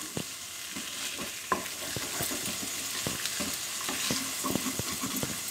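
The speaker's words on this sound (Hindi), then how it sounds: "ये मेरे आलू बड़े आराम से सुनहरे सुनहरे तले जा रहे हैं।" Potatoes frying in oil in a pan, a steady soft sizzle with occasional scraping stirs and small pops, close and continuous with no talking.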